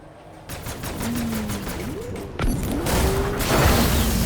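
Rapid bursts of sci-fi gunfire from a Starlink: Battle for Atlas space battle, a steady stream of close, loud shots with whooshing projectile sweeps and a heavier impact partway through.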